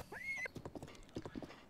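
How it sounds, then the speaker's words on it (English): A horse in the video game Zelda: Breath of the Wild gives a short whinny followed by a quick run of clip-clopping hooves, close and clear with no talk. "We have a pony!"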